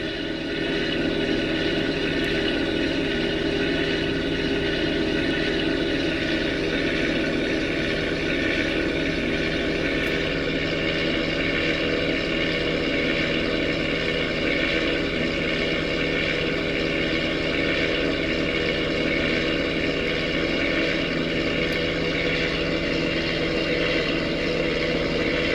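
Simulated aircraft engine drone from Flight Simulator 2000 running on Windows 98, a steady, even propeller-like hum that holds constant throughout, with no voices.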